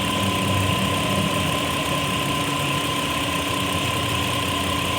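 Engine of a Kia Rondo idles with a faulty AC compressor running, a steady close drone with a constant tonal hum and a faint knocking rattle underneath, no talk.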